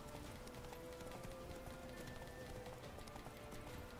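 Horse hooves in The Witcher 3 video game, a quiet, steady clip-clop of a horse moving at pace, running continuously beneath faint background game sound.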